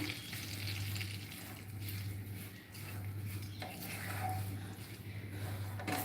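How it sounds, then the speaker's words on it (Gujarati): Semolina roasting in a pan of ghee, a steady close sizzle with scraping and stirring of the pan throughout, no talking. "એની અંદર આપણે સૂચી એડ કરીશું એક વાટકી જેટલું ઘી લીધું છે એ જ માપે સૂચી લઈશું અને એને આપણે શેકીશું"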